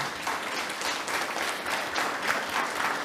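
Audience at a York County Council meeting applauds, a steady dense wash of many hands clapping at moderate volume for about three seconds with no talking over it.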